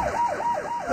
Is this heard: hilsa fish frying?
no